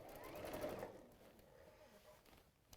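A sewing machine stitches to finish a seam and pocket edges, a quiet close whirring run that slows and fades near the end.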